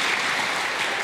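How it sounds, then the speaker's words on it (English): Steady, loud applause from a badminton arena crowd at a men's singles semi-final, a dense wash of clapping with no break. "Listen to the applause."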